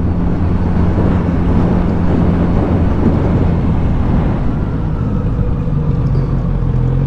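A Kawasaki Z900 RS motorcycle is ridden, heard as a loud, steady roar of engine rumble mixed with heavy wind buffeting that carries on unbroken throughout, with no talking.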